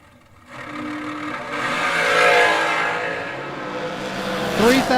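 A drag racing dragster launches hard, quiet at first, then a sudden engine surge building into a loud, rising roar that swells and fades slightly before a sharp sweeping scream at the end, with a voice faintly underneath.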